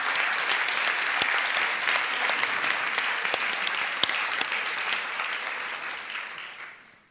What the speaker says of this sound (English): I'd like to ask you all another round of applause for the organized committee and for AIJA